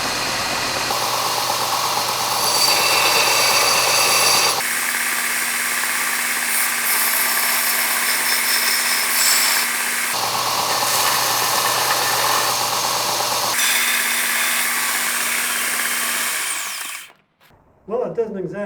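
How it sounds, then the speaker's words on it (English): A Craftsman 6x48 belt sander grinding metal runs with a loud, steady motor hum and abrasive rasp that shifts in pitch as pressure changes, before spinning down near the end. "See what it looks like when I put some metal to it."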